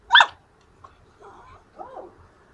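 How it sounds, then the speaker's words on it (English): A pet dog gives one sharp close bark followed by two soft whimpering whines, quiet in between. "Look at the dog."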